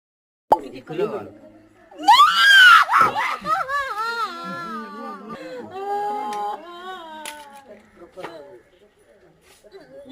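Recorded woman's screaming plays back, a long high wailing cry with sobbing, whimpering breaks and shifting pitch, loud at first and fading to quieter moans.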